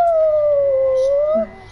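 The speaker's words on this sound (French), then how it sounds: "Oh, le chien!" A dog howls in a video game, one long, smooth, wavering howl held for over a second before it cuts off, loud and up close over faint game background.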